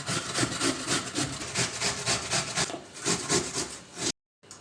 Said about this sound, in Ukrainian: Тепер потрібно їх натерти на велику терку. Беремо миску і натираємо.